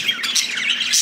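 A budgie parakeet chirps in quick, bright, close-up tweets and warbles, several short calls in a rapid burst with no voices.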